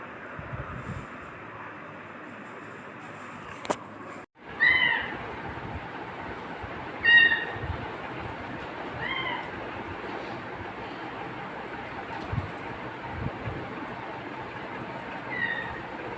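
A kitten in a home gives a few thin, high meows spaced several seconds apart, faint against a steady background hum, with one sharp knock partway through.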